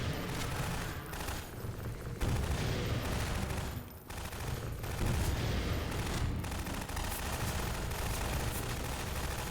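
Gunfire from the video game Half-Life 2, a dense, continuous barrage of shots and booms that fills the whole stretch, loud and busy with a brief dip near the middle.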